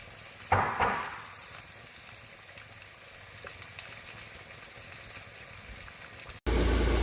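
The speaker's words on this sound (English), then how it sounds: "And I've got the pork belly simmering away" Sticky caramel pork belly simmers in a pan with a steady soft sizzle and bubbling, opened by a brief louder hiss near the start and cut off abruptly near the end by a low thump.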